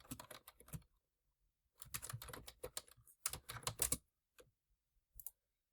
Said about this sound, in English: I can type in the name that I want